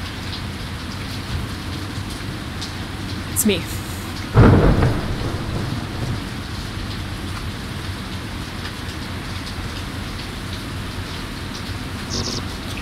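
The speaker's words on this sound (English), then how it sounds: "During a dark, rainy night," Steady rain pours in an Everhood video game cutscene on a dark night, with a sudden loud crack and rumble of thunder partway through, and a voice speaking briefly over the storm.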